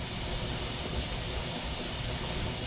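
A pressure canner for spaghetti sauce gives off a steady, loud hiss of steam that holds level and unbroken throughout, with no talk over it.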